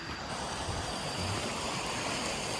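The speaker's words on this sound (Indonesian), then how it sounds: "Ada sungai di situ guys." A river flows beside a hiking trail on the way up Bukit Cendono in Pacet, a steady broadband rush of moving water that stays constant throughout.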